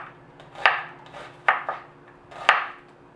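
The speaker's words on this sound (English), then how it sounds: "Cut them in half and then just slice them, not too thick." Halved potatoes being sliced by hand with a knife for a salted codfish and potato stew: four crisp, close knocks of the blade against a cutting board at an uneven pace, each with a brief scrape, and no talking.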